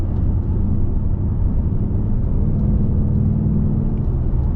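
A 2024 Ford Mustang GT Premium V8 drones steadily while driving on a road, a low, constant engine rumble heard from inside the cabin with no speech.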